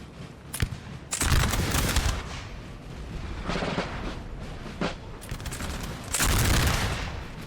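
Repeated musket volleys crackle in dense, rolling bursts across a Napoleonic battlefield in Napoleon Total War, loud and layered with distant booming fire between the heavier salvos.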